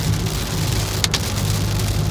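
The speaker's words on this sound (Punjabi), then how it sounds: "ਇਹ ਇੱਥੋਂ ਮੀਂਹ ਚਾਲੂ ਹੋ ਜਾਂਦਾ ਇਹ ਵੱਧ ਗਿਆ ਫੇਰ" Rain pours down outdoors over farmland, a loud continuous hiss with a low rumble underneath and a brief sharper splash or gust partway through.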